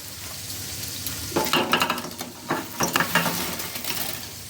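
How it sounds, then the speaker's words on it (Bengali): Fried rasabora are tipped into sugar syrup and stirred, giving a quiet bubbling base broken by several short, sharp sizzles and clattering stirs in the middle. "এবার আমি চিনির শিরাটা হয়ে গেছে, এর মধ্যে ঢেলে দেব।"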